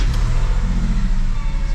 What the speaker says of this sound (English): It's a cold start, boys.